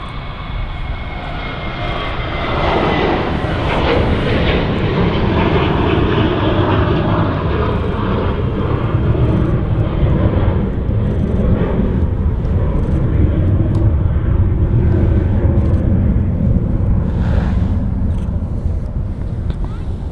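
A Ryanair airliner rolls down the runway for takeoff at Manchester Airport, its jet engines a loud, sustained roar that swells and holds for the whole stretch, with wind buffeting the microphone and a voice talking over it.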